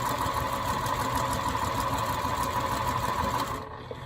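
A sewing machine stitches quilt fabric at a stitch length of about 2.5, a steady, close, continuous whir with rapid mechanical rhythm running throughout and easing slightly at the end.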